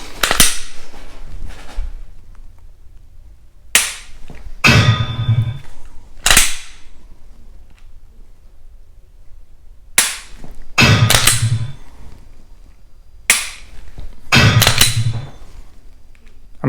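A Glock dry-firing indoors at a laser training target, a series of sharp, loud clicks and snaps in small clusters spread across the span, with quiet gaps between them.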